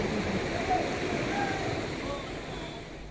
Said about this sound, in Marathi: मनमाड शहरातून वाहणाऱ्या रामगुळणा आणि पांझण नदीला या ठिकाणी मोठा पूर आल्याचं पाहायला मिळेल